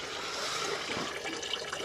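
Old brown coolant drains in a steady splashing trickle from the radiator of an old abandoned digger during a flush, close and continuous with no voices.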